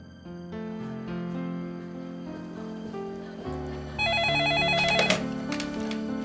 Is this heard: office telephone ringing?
yes